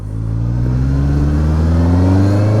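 A Honda CBR650R sport motorcycle engine pulls steadily under gentle throttle, its loud, close four-cylinder note rising smoothly in pitch over a couple of seconds with a strong low rumble underneath.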